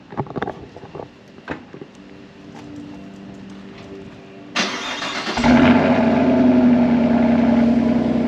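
A 6th-generation Chevrolet Camaro fitted with an aftermarket air intake cranks briefly after a few light clicks and taps, then its engine catches and settles into a loud, steady idle close by.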